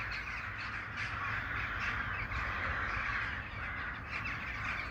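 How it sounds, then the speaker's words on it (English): A flock of crows or ravens cawing outside a front door, harsh overlapping calls repeating throughout over a steady outdoor background hum, moderately distant. "Look at these birds, crows, ravens acting really weird."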